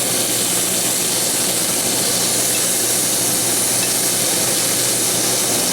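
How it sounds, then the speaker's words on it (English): Veal browning in a hot pan, a loud, dense, continuous sizzle and crackle of frying meat, close up, with a faint fan hum underneath and no talking. "I'm going to brown this side also"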